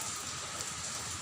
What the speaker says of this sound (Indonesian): karena di sini hujan cukup gelap juga